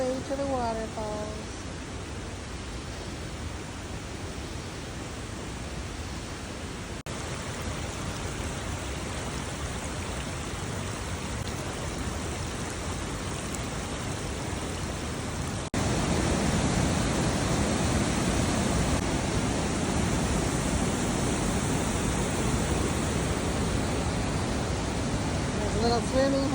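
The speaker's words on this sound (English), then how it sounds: "We made it down all the way to the waterfalls." The waterfalls at Semuc Champey, Guatemala, pour out a constant broad roar of rushing water that grows noticeably louder partway through, with possible faint voices mixed in.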